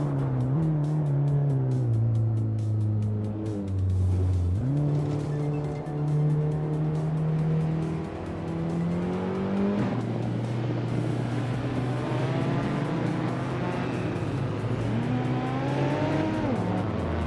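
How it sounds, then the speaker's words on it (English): A 1983 Honda City Turbo 2 races in a video game, its engine droning and climbing through repeated gear changes, revving up, dropping and rising again in a steady, continuous whine with no voices. "Epic Sugar is racing a 1983 Honda City Turbo 2"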